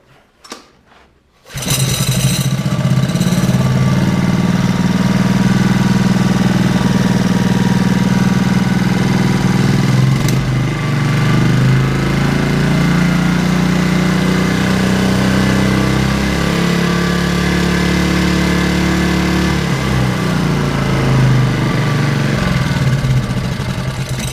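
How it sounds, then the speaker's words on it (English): An already-warm pit bike engine starts without choke after a brief click, then idles loudly and close for over twenty seconds in a steady buzzing drone with slight wavering, with no talk. "here's engine's already warmed up, so here's a start without a choke"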